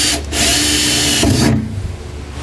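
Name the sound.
power drill drilling holes with 1/8 inch bit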